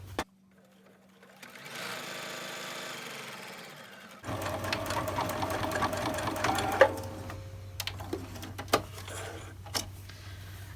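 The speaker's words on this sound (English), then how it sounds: "since I'm going to be stitching all the way around that I'm going to catch that line there" A sewing machine stitches fabric for a rice-filled heating bag: a brief low hum, then a softer run of stitching, followed by a longer, louder stretch of rapid needle chatter with a few sharp clicks, close up and without speech.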